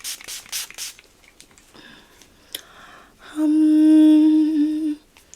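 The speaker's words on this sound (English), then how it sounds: "This is Revolution Pro Glow Edit Fixing Spray." A few short puffs of Revolution Pro Glow Edit makeup fixing spray, then one longer, steady hissing spray burst that lasts over a second before stopping.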